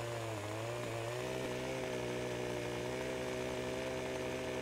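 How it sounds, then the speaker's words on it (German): Chainsaw cutting through a tree trunk in the Landwirtschafts-Simulator 15 farming game, a steady loud engine drone held throughout with a slight pitch change early on as the blade bites. "Der hier muss, glaube ich, nochmal durchgesägt werden."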